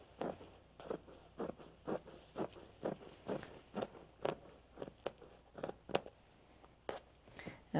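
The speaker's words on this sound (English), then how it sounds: "So it just takes seconds to cut this out." Scissors cutting fusible interfacing for a sewn jacket: a steady series of crisp, close snips, about two a second, sound alone in a quiet room.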